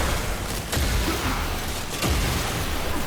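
Zephyr Prime's arm cannon fires amid tornadoes in the video game Warframe, with dense crackling bursts and a few sharp booming blasts over a steady wash of noise, loud and close, with no voices.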